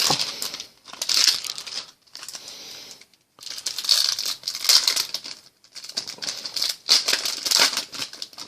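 Plastic wrappers of Panini Prizm basketball card hanger packs crinkling and tearing up close, loud crackly bursts in several bouts separated by brief pauses.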